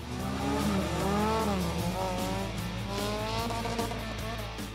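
Race car sliding and skidding through a slalom course run by a motor racing club, with a loud engine drone and wavering, squealing tire tones rising and falling throughout.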